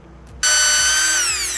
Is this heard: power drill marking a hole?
yes